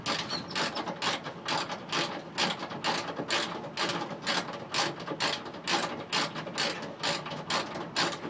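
Ratchet wrench removing bolts from the interior shelving partition of an Astro van, a steady run of loud clicking strokes in even rhythm, close and alone.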